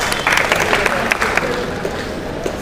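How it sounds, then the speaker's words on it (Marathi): Studio audience at a quiz show applauds a contestant with brisk, fairly loud clapping that gradually thins out, with some voices mixed in under the claps. "तर श्रद्धा मॅडमसाठी पुन्हा एकदा जोरदार टाळ्या होऊ द्या"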